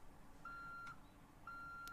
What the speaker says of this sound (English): The beeping's getting a little annoying.